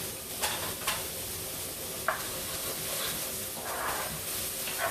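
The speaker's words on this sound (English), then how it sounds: "we're going to saute it" Onion sautéing in a pan, a steady close sizzle and hiss running throughout with a few light stirring scrapes on top.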